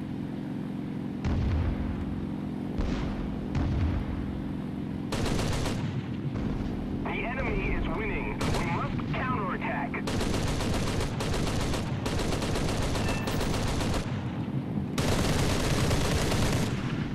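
Aircraft cannons in the War Thunder combat flight game fire at an A-20 bomber in loud, dense bursts. Repeated volleys a second or two long alternate with engine drone and rumbling impacts.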